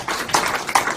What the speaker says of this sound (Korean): 우리 다 같이 박수로 환영을 좀 해주시기 바랍니다